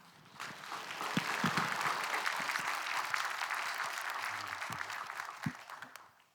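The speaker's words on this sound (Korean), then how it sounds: "우리 목사님 나오실 때 주님을 기대하는 마음으로 또 환영하는 마음으로 큰 박수로 맞아주시기 바랍니다." A church congregation breaks into sustained, enthusiastic applause to welcome the pastor, many hands clapping at once in a reverberant hall, swelling quickly and fading out after several seconds.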